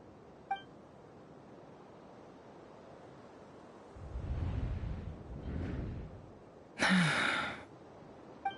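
A woman gasps sharply once, a brief loud intake of breath standing out against quiet background hiss, with softer breathy rustles just before it.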